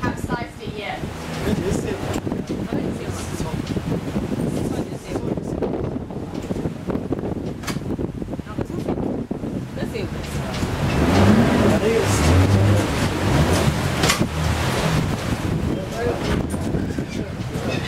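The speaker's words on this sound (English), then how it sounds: "You may have noticed it's a little bit choppy out here, so you might feel a few waves coming through from time to time." Wind buffets the microphone steadily while choppy sea waves slosh and splash around a glass bottom tour boat off Green Island, with the engine rumbling underneath; the noise swells toward the end.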